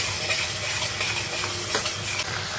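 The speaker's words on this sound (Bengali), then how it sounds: "এইবার আমি দিয়ে দেবো টমেটো পেস্টটা" Tomato paste fries and sizzles in hot oil with fenugreek, a steady close hiss with occasional stirring scrapes and clinks of a utensil against the pan.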